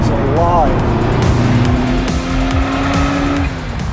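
A Ferrari F40 driven hard on Mulholland Highway, its loud engine revving and rising in pitch with bursts of tire squeal as the car passes close, over continuous road noise.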